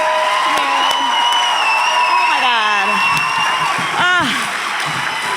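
An audience at an arts awards ceremony applauds and cheers, with high whoops rising over steady clapping. A nearby voice exclaims over the crowd noise.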